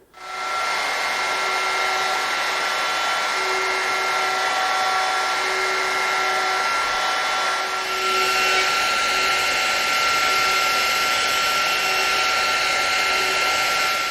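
A router guided by a shop-made mortising jig cuts hinge mortises in wood for a shadow box, a loud, steady high-pitched whine running throughout with a slight shift in pitch partway through.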